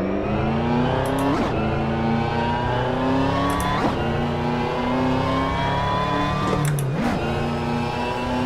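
A car engine in the Assetto Corsa racing game drives through the rain, revving up in repeated climbs through the gears with brief dips at each shift, loud and close, with no talking.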